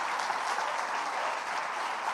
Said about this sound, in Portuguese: vamos aplaudir mais uma vez Jesus